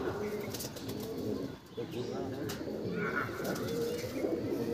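A Madras pigeon in a loft coos softly and flaps its wings. The sound is quiet and close, with low, muffled room noise around it.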